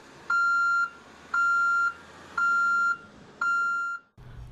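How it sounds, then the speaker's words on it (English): Tilt alarm on a boom-supported aerial work platform, four loud, steady electronic beeps of equal length repeating at an even pace, with a short pause between each and no talking. "the tilt alarm will sound"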